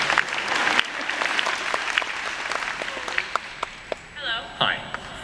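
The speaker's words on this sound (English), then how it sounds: "Let's clap some good writing." A crowd at a fan convention panel applauds steadily, with scattered whoops and a few voices rising near the end as the clapping thins out.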